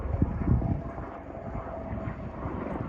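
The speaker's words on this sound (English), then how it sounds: "Another helicopter so I can show you how low they're flying by here." A low-flying tour helicopter passing over treetops near the Grand Canyon, its rotor thumping and engine drone steady and moderately loud, with wind noise and no talk.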